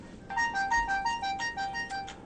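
A telephone ringtone repeats a quick pattern of bright electronic tones several times in a steady rhythm, clear and fairly near.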